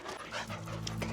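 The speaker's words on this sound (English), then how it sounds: "Oh dear, this dog." A dog panting steadily and close by during an evening walk along a canal, with quick rhythmic breaths continuing throughout and no talk over it.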